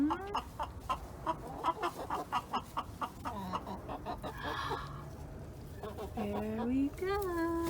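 Chickens cluck and chatter inside a garden chicken coop in July, with a string of short, fairly close calls running steadily through the clip and several longer, drawn-out vocalizations near the end.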